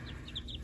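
Faint, thin peeping from bantam baby chicks with furry, silvery-white feet, heard as a few soft, high chirps over a steady low background hum.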